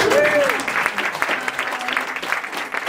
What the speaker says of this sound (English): So applause for Ahmed.